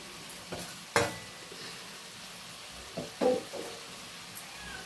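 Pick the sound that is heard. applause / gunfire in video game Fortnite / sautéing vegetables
sautéing vegetables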